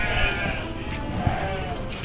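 Goats bleat in a pen during Eid al-Adha, nearby and fairly loud, with a wavering cry and a brief second call over a busy farmyard background.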